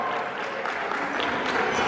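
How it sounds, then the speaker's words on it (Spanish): A crowd at a regional cueca dance championship applauds a dance couple with dense, steady clapping throughout the brief moment, heard from a short distance. "Aplausos para ellos."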